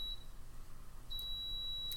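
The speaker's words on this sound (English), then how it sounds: "have a beeping in the background. Sorry, new coffee perk" A faint, steady electronic beeping tone comes from a coffee percolator, sounding once briefly then continuing longer against a quiet background.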